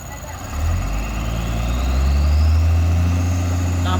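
Container-carrying trailer truck struggling up the steep Kedabuhan incline, its heavy diesel engine revving loud and close in a steady low drone that builds over the clip, with faint voices in the background.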